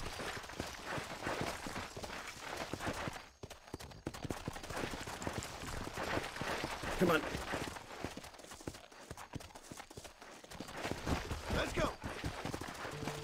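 Horse hooves clop and gallop in the Western video game Red Dead Redemption, a quick rhythmic patter that runs under a person talking throughout.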